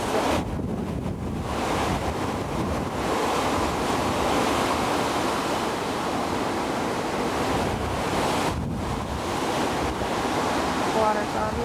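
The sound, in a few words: Hurricane Katrina storm surge waves coming in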